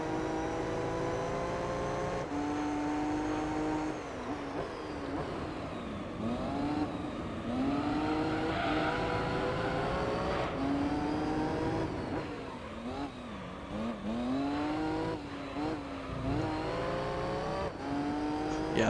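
A prize car engine racing in Gran Turismo 3, revving up and down through gear shifts with rising and falling pitch, loud and close, with occasional tire noise and no talk.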